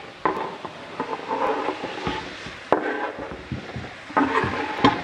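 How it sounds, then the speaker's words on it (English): Chopped carrots are dropped into a pot of celery and onions, then stirred and tossed, giving scattered wooden knocks, light clatter and soft sizzling in short bursts, with no voices. "the carrots can also simmer down with the celery and the onions. So because I can, I'm going to chuck them in now"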